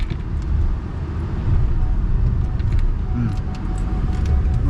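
A car rolls past close by during parking outside after church, a low rumbling engine and tyre noise that holds steady throughout, with faint clicks and no clear talk over it.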